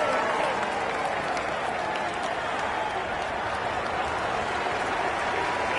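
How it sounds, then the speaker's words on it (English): Sustained applause from a large crowd at a Tour de France 2023 time trial in a video game, a steady dense wash of clapping that holds at an even level throughout. "Come on, let's applaud him,"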